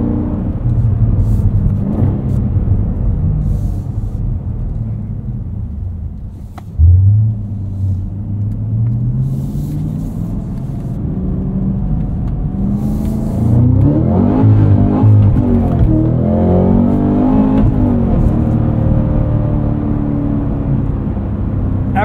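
A 2024 Cadillac CT5-V Blackwing's engine rumbles and revs while driving, with timing cuts from the traction control adding crackles. The engine note dips, then climbs repeatedly through rising and falling rev sweeps, loud and close.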